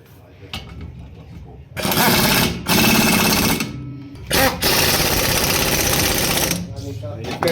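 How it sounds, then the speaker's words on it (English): Loud rattling bursts from a pneumatic impact tool tightening nuts during a Nissan 1400 stub-axle and hub replacement, several long runs of hammering noise close by, with quieter stretches between them. "And then I'm going to use the air tool, so sorry for the noise"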